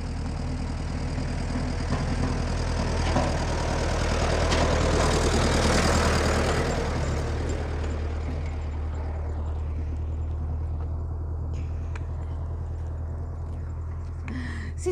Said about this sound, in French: Et là, il est avec un tracteur.